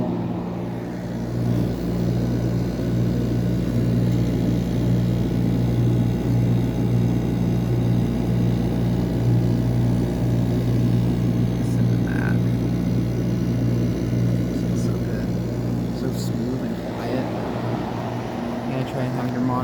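A steady, droning mechanical hum with a low motor rumble from an old Frigidaire air conditioner runs continuously at an even level on a humid day, with faint rattles now and then.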